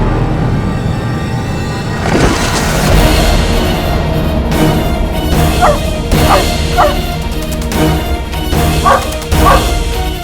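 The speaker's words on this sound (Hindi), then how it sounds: "ये कुत्ता इतना भौंक क्यों रहा" A dog barks and yips in a scene from an Aladdin web series. Several sharp barks come in a loose burst in the second half over a busy, noisy background.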